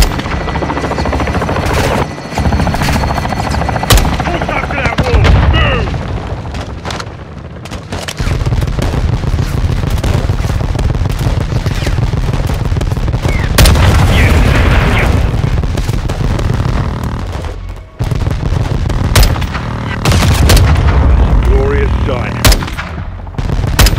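An air support run hits a building in Call of Duty MWII, bringing loud, dense gunfire, heavy booming blasts and helicopter rotor noise that roll on almost continuously, with brief lulls.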